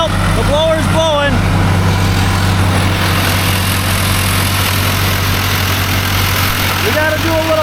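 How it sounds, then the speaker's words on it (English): The forage blower on a John Deere 3970 chopper runs with a steady low engine drone throughout, loud and close, while someone talks briefly over it at the start and end. "Well, the blower's blowing."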